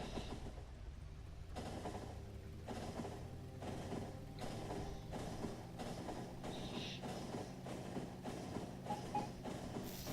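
A train rolls along the tracks in the factory-building game Factorio, producing a steady mechanical rumble with evenly spaced rhythmic clunks repeating every second or so, continuous and free of speech.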